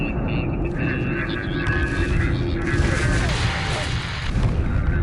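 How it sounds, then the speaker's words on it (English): Orbital surface bombardment in Homeworld Remastered: a dense, continuous roar of heavy booming impacts and rumble under radio chatter voices, loud and sustained. "Prepare for immediate surface bombardment."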